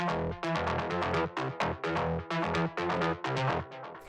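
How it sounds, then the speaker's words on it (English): Mid-range synth bass for EBM techno, built from two layers in an instrument rack and treated as a group, pumps out a loud, steady run of short, buzzy, harmonically rich notes in a driving rhythm, alone with no voices. "The next thing that we have here is the mid-range bass, which sounds like this."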